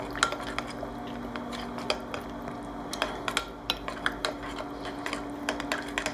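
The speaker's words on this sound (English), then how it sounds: "Let's stir that all together." Utensil stirring wet dessert ingredients in a bowl, a steady run of soft clinks and scrapes against the bowl with a faint wet squish, close and moderately loud, no voices.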